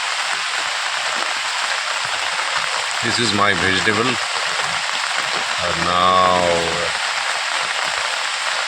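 Heavy rain pours down outdoors over waterlogged ground, a dense, steady hiss filling the whole stretch while someone talks over it in two short bursts.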